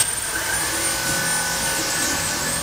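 A Dyson vacuum cleaner runs indoors with a steady, loud, close motor whine and airy rush that stays even for the whole short stretch.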